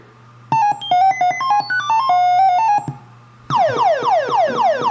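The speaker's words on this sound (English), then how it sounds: "Some futuristic beeping noises." Electronic beeps from a Missile Command arcade game step through a quick melody, then a rapid run of descending synthetic chirps, loud and close.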